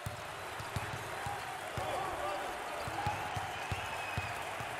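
A crowd roars and cheers steadily in a large arena at a college basketball championship game, with occasional sharp thuds of a ball bouncing underneath.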